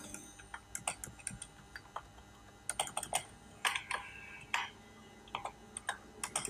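Rapid, irregular keystrokes on a computer keyboard while typing a name into InPage software, crisp clicks in short bursts with brief pauses, close to the microphone, no talking.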